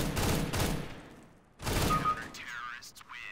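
An automatic weapon sprays a loud burst in CS:GO, pauses, then fires a second burst, with a commentator's voice talking alongside.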